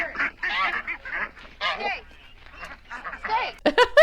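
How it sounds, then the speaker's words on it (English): Ducks at a neighbor's small backyard pond quack and honk in loud bursts, mixed with people talking nearby and a sharp cluster of calls near the end. "All the ducks are gonna get away."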